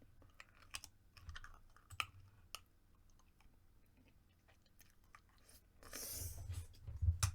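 Faint, close crunching and clicking bites come in irregular bursts as someone chews on something during a poker strategy session at a computer, with a rustle swelling near the end and no speech.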